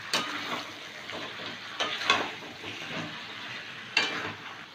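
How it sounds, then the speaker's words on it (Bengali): Meat frying in a pan on the stove as it is cooked down for a potato and meat curry: a steady close sizzle with occasional louder stirring scrapes, no talking. "এবার মাংসটাকে একটু কষাবো।"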